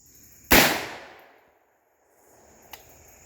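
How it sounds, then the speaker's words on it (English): A single sharp gunshot from a .458 SOCOM rifle fired outdoors, a loud close crack with a ringing decay lasting about a second, followed by a faint distant impact tick. "So this is the first shots of the 458 on it."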